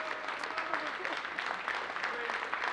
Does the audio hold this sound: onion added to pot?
no